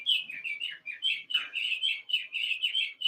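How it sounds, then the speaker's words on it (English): A blue jay calls outdoors in a neighborhood, giving a rapid run of sharp, high, scratchy chirps repeated over and over, fairly close and clear, with no talking. "because that's the sound of the blue jay"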